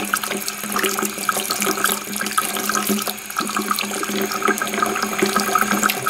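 Hot water runs steadily from a tap into a sink in an even, continuous splashing rush at close range, with no talk over it.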